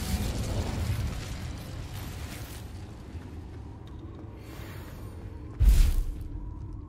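An Incendio fire spell from a Harry Potter video game bursts with a sudden low whoosh and boom near the end, following a softer rushing, crackling rumble at the start.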